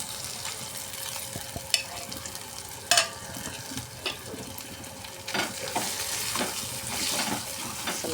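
Okra (bhindi) fries gently in a little oil, a soft, steady sizzle broken by occasional spoon clinks and stirring scrapes.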